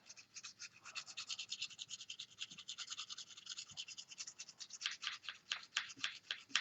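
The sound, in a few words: sharpening pruners with a sharpening stone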